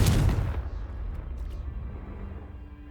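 In the video game Hogwarts Legacy, a Confringo fire spell goes off with one heavy, close explosive boom that fades into a rumbling tail.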